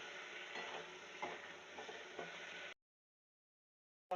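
Fried potatoes with ground cumin and spices are stirred in a hot pan. A constant sizzle runs under soft rhythmic scraping strokes of the spatula, then cuts off abruptly into silence before a brief sound at the very end.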